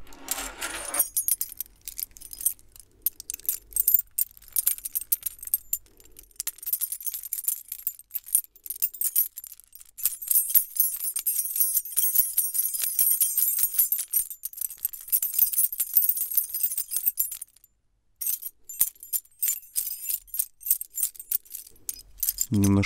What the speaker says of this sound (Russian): ключи создают пики на записи